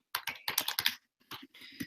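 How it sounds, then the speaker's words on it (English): Quick bursts of keystrokes on a computer keyboard during a live tech talk show, close and clear, in two clusters separated by a short pause. "So you're typing, so I'll say it."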